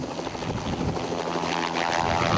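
A helicopter drones steadily overhead on the outskirts of Dubai, its rotor and engine noise loud and continuous with no voices.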